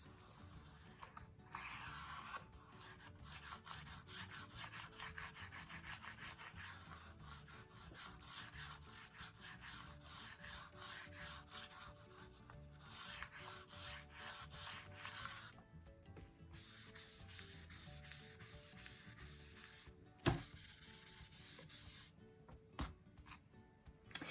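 Pencil scratching and rubbing on paper while clouds in a seascape are drawn and blended, soft continuous strokes with brief pauses and a sharp tap near the end, quiet and close.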